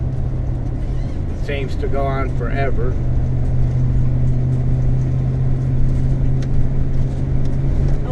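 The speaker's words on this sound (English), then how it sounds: "Right now I've downshifted to second gear for this hill here." An RV engine in second gear hums as a steady low drone while it climbs a hill, with a voice talking briefly over it near the start.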